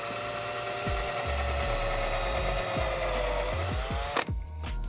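A TEMU-branded number 6 countersink bit drills into a workpiece with a steady, high-pitched whine, broken by several brief bites as the bit cuts, then stops abruptly near the end.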